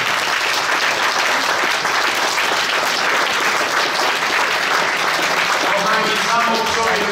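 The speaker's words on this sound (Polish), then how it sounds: "Proponuję naprawdę gromkie oklaski intencji naszych rycerzy Kolumba." Loud, sustained audience applause fills the hall at a Knights of Columbus council anniversary celebration, steady clapping throughout with a voice emerging faintly near the end.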